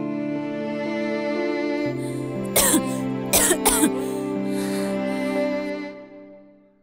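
A person coughing in a drama scene, a short cluster of harsh coughs and throat clearing in the middle, over a sustained musical background.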